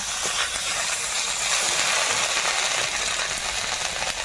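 Panch phoron spices crackle and hiss in hot oil, a steady bright sizzle close by with tiny pops throughout, no voices.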